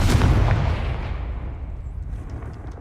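A Confringo spell explosion in Hogwarts Legacy, a single heavy blast with a deep booming burst right at the start that rolls away into a long fading rumble, with no voices.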